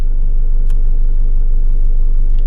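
A car engine idles with a loud, steady low rumble close by as the handbrake is released, and a couple of faint clicks sit above the continuous drone.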